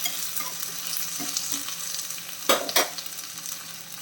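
Garlic, onion and curry leaves sauté in a pan with a steady crackling sizzle, and a few sharp spatula scrapes and stirs stand out near the middle.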